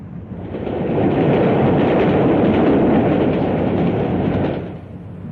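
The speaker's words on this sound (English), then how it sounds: "Suburban and cross-country services are seeing more and more of these new diesels." A new diesel multiple unit train of 1959 British railways runs past, a steady broadband rumble that swells in as it nears, holds loud for several seconds, then eases off at the end.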